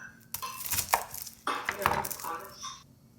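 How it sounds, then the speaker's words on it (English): A knife cuts a shallot horizontally on a board in a cooking class, giving a few sharp, close cutting taps and scrapes in two short bursts, with quiet gaps between them. "And what you're doing is slicing it like horizontally."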